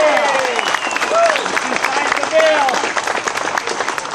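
A crowd at a Joplin Tea Party political meeting claps steadily for about four seconds, dense and loud throughout, with a few voices calling out over the applause.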